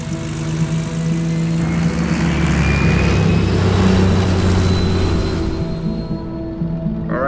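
A skydiving aircraft climbing to 12,500 feet produces a loud, steady drone of engine and propeller, a sustained low hum that stays close and constant before easing off near the end, without speech.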